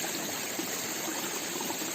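Irrigation water runs through an earthen channel on an organic cabbage and pea farm, a steady, close rushing and trickling flow with no talk.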